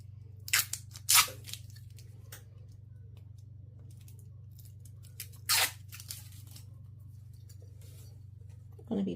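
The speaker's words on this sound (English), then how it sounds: "we're going to be peeling off that clear protective" Clear protective film is peeled off a rectangular metal keychain in a few short crackly tearing bursts, close and distinct over a steady low electrical hum.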